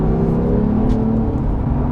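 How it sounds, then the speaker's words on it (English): Porsche 911 GT3 Touring engine pulls hard on an open road, a loud, steady raucous roar with continuous rumble heard from inside or close by, no talking over it. "The noise is a raucous symphony compared to the turbo strangled Carrera T, but it does sound like a proper 911."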